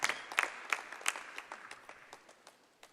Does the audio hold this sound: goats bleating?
no